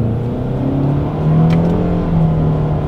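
A 2024 Mitsubishi Outlander with a CVT pulls away from a standstill, a steady engine drone rising slightly in pitch as it builds speed, heard from inside the cabin with no talk.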